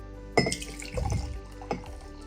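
Boiling water pours briefly into a Dragon Ball Z heat-changing magic mug with a few splashing, glassy gurgles, quiet and close, in short separate bursts.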